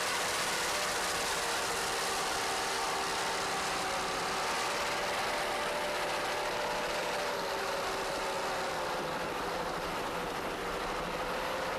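Twin-turbo offshore racing powerboat of the Mr. Goodwrench team at the 1993 Flag Ship International Offshore Challenge, a constant loud engine roar and rushing drone held for the whole stretch without letup.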